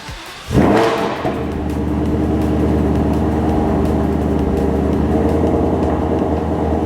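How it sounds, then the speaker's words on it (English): A Ford Coyote V8 engine in an S550 Mustang GT, built for 1000 wheel horsepower, cranks and catches with a sudden roar on its first start, then settles into a steady, loud, rumbling idle to the end. "it's at a point now where we can start it up for the first time"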